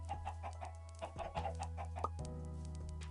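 Chickens cluck in the Minecraft video game, short soft clucks over a steady low game hum, close and moderately loud, with no speech.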